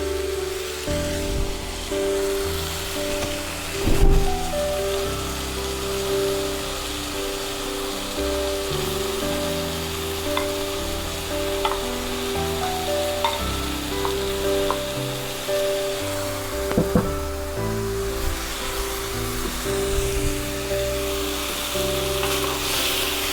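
Chopped chicken sizzles loudly in a frying pan with tomatoes, onions and peppers as it is stirred, with a steady hiss and occasional scrapes and clinks of the utensil.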